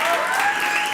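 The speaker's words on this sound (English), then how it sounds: "Please give yourselves a round of applause." A live crowd at a Cape Town youth tech and innovation event applauds, a short continuous spell of clapping and cheering at a loud, even level with a faint tonal element running through it.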